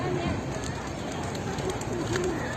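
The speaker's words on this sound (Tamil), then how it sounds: "எவ்வளோ புறாலாம் இருக்குது பாருங்கள்" A flock of pigeons cooing at a Murugan temple in Malaysia, soft repeated coos over a busy outdoor murmur with people talking nearby.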